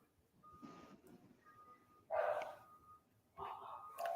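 A dog barks indoors in a few short, muffled bursts at a distance, separated by quiet pauses, with soft background sounds.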